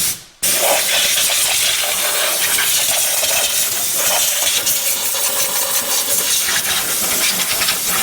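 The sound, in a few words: compressed air blowing dust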